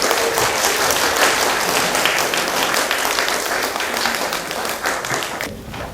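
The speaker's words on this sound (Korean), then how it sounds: "큰 박수로 환영해 주시기 바랍니다" A crowd at a lecture gives sustained, dense applause to welcome a speaker, a loud continuous patter of many hands that thins slightly toward the end.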